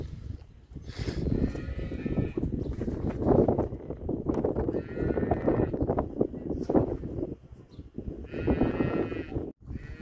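Dairy cattle on a farm: a dense, continuous stretch of bleating and lowing from a herd of animals close by, steady and loud throughout with repeated calls overlapping.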